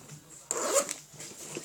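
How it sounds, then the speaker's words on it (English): A Velcro fastener on an EDC bag is pulled open with one short, loud tearing rip lasting under half a second, followed by faint handling rustles. "That's Velcro"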